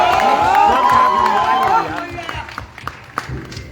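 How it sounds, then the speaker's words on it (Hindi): An audience at a film trailer launch event claps and cheers loudly with shouting voices, the roar easing after about two seconds into scattered claps and murmurs. "मेरी ताली बजा के आशीर्वाद दे देता।"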